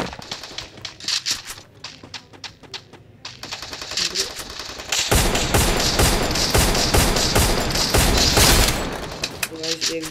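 Rapid automatic gunfire from the video game Free Fire rattles in loud, dense bursts that swell into continuous fusillades, with a voice occasionally over the shooting.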